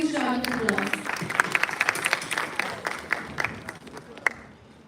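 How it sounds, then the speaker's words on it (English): An audience at a school debate event applauds the debaters, starting with a voice over the first moments, then scattered individual claps that thin out and fade. "Please put your hands together and give them a huge round of applause."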